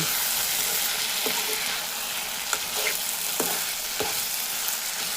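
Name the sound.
stirring tomato bath with ghee in pan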